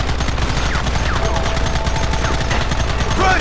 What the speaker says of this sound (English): This is actually a very powerful Gatling gun, to be precise.